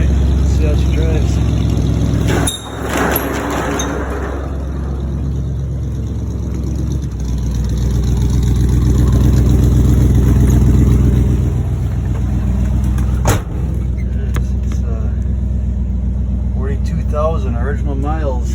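A 1979 Lil Red truck engine with a Thermoquad carburetor runs after six months sitting, a steady loud idle rumble that swells in the middle with brief sharp knocks, while people talk over it.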